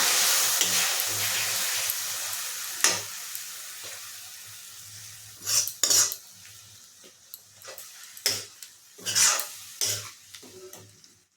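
Egg curry being stirred and fried in a pan with thinly sliced potatoes and a little water, giving a steady low sizzle broken by several sharp scrapes and clanks of a spatula against the pan, up close with no talking.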